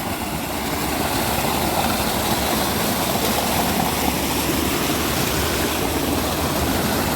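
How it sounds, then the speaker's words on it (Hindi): A mountain stream at a picnic spot in Quetta runs high with plentiful water, giving a steady, loud, broadband rush that holds at one level from start to end, with no voices. "नाला है, चश्मा है।"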